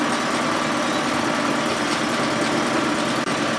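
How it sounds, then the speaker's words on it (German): A new Tohatsu MFS 9.8 outboard motor runs steadily through a break-in session. Its even, high-pitched engine drone holds at a constant level from start to finish, with no voices. "den lasse ich jetzt immer so eine gute anderthalb, zwei Stunden einfach so vor sich hin tuckern"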